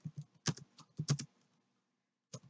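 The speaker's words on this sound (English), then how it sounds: "just type in all of the data that they gave you in the question" Keystrokes on a computer keyboard while entering data, in short bursts of quick clicks separated by pauses, with one final isolated flurry after a brief silence; close and fairly quiet, no voices.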